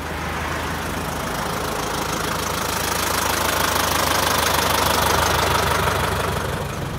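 A vehicle engine idling while hauling a wagon of pumpkins home at the end of the season, a steady close rumbling drone that swells slightly in the middle and runs throughout without talk.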